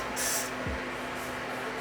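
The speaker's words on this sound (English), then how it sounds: "sometimes I see people spray it again" A brief hiss of spray misted over a curly synthetic lace wig, one short burst near the start followed by a fainter puff, close up against a quiet room.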